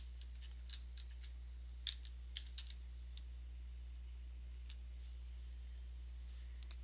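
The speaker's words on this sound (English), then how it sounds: "I'm going to type it in." Quiet, scattered keystrokes on a computer keyboard as a date is typed into a form, a few light irregular clicks over a low steady hum, with no talking.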